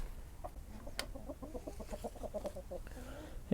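A flock of hens and a rooster on a tropical homestead cluck in a quick run of soft, close calls, with a brief louder squawk and a quiet voice nearby.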